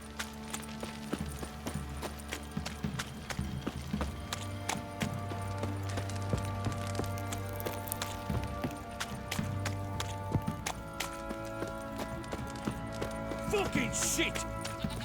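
In The Witcher 3, horse hooves clip-clop in a steady run of quick knocks. They play under a bed of game music and ambient sounds, with voices talking over them.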